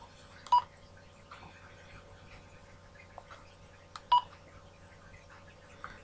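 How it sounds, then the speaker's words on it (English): Midland G7 PMR446 walkie-talkie bleeping as its buttons are pressed, with two clear short beeps spaced about three and a half seconds apart and faint clicks between them. "that basically turns the bleeps on and off, you know, as you press the buttons on the rig."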